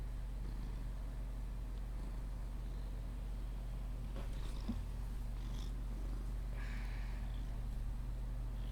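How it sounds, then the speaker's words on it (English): A house cat purrs steadily and close, a low continuous rumble running unbroken through the whole stretch, with a few faint higher rustles or sniffs over it. "He's a noisy kitty."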